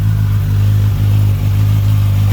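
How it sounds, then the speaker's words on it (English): A 2011 Suzuki GSX1000F with its stock exhaust, engine droning loud and close with a steady low-pitched hum and slight wavering, held throughout. "So when you get on this thing, you're going to hear it."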